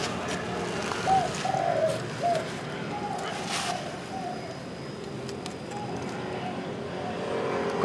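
Several soft, low spotted dove coos in a short run early on, over steady outdoor background noise with faint traffic.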